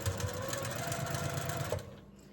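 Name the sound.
sewing machine stitching quilt block pieces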